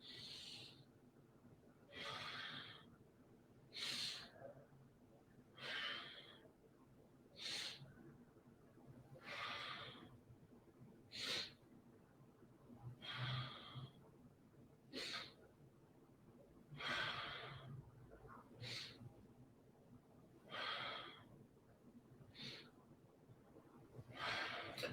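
A yoga student breathes in slow, audible rounds during cat-cow stretches, each soft airy inhale and exhale rising and fading at a steady rhythm over quiet room tone, with no talking.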